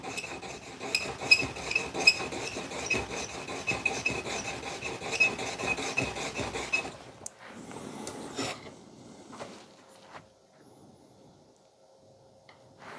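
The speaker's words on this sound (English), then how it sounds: "I'm just going to keep sharpening and checking, sharpening and checking." Hand filing to sharpen a hammer and chisel graver: steady back-and-forth rasping strokes, close and fairly loud, for about seven seconds, then stopping and leaving a few light scrapes and quiet handling sounds.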